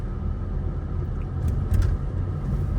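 A Range Rover Evoque with a 2.2 SD4 diesel engine accelerating: a steady, close, low rumble that swells slightly partway through, with no talking.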